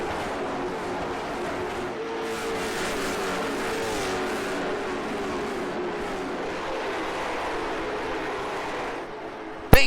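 Late model race cars roar around the track at Nashville Fairgrounds in a continuous, loud, dense engine drone with no clear pass-bys standing out, ending in a brief sharp knock.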